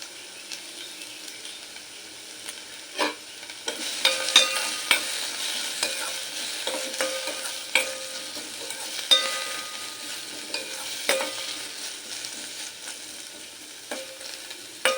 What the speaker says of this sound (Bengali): ঘিয়ের মধ্যে আলু আর গাজরটা একটু ভেজে নেব